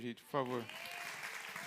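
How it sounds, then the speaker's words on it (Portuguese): Applause from a church congregation during a demonstration Bible class, a rough, scattered patter that starts right after a short burst of speech and continues at moderate volume under the room sound. "uma salva de palmas aqui"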